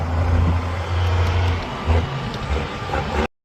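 The diesel engine of a British Alvis Stalwart amphibious military truck runs close and loud in a deep, steady rumble with small surges, then cuts off abruptly.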